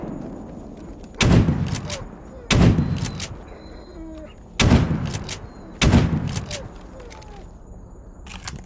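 Four loud gunshots in the video game STALKER GAMMA (Anomaly) ring out at uneven intervals, each with a sharp crack and a short echoing tail, over faint background ambience.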